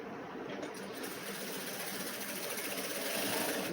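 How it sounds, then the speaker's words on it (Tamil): A sewing machine hums and clatters in a steady, close run while stitching the shoulder seam of a lined blouse, with no talking. "ஷோல்டரில் மேலே தையல் போடுங்க, ஒட்டில் தையல் போடுங்க"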